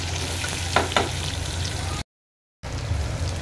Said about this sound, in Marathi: फक्त 2 मिनटं दोडका फ्राय करून घ्यायचा.